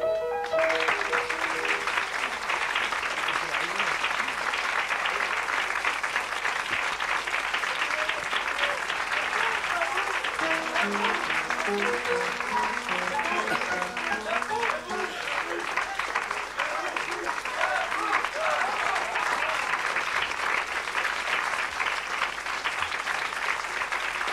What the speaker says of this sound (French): Schubert, qu'on applaudit très fort